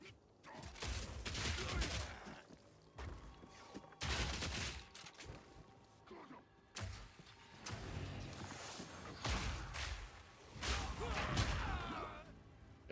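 Crossbow explosive rounds fire in Path of Exile 2 as repeated bursts of game gunfire and impacts, dense and loud across the span and mixed with other combat effects.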